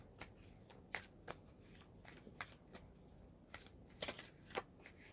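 A deck of tarot cards is shuffled by hand in a quiet room, giving a series of soft, crisp riffling flicks and slaps at an irregular rhythm.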